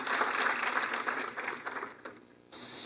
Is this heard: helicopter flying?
no